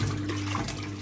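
Water sloshes steadily in a 1958 Hotpoint Empress washing machine on its rinse cycle, a continuous close churning swish with a low motor hum underneath.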